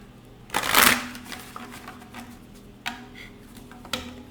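Tarot cards being shuffled up close, one loud riffle burst followed by a few softer card flicks and taps.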